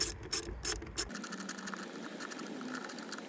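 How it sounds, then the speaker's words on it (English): A ratchet clicks rapidly while tightening the air filter housing bolts on a Honda CR-V, a few loud bursts of clicks up close followed by a steadier, softer run of ratcheting. "We just need to tighten those 4 bolts down."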